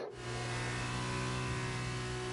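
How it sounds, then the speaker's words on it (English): F1 racing car engines rev loudly and steadily in a racing video game at Imola during the formation lap, a continuous harmonic engine whine with no talk over it. "Get their cars warmed up, the engines warmed"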